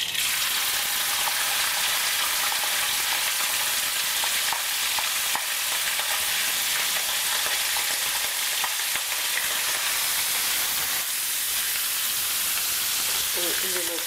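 Fish sautéing in hot oil in a frying pan, a loud dense continuous sizzle and hiss holding steady throughout, with faint voice-like sounds buried underneath.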